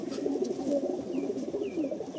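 Soft, low cooing of Madrasi pigeons in a loft in Kolkata, repeating in a steady rhythm, fairly close, with faint chirps above.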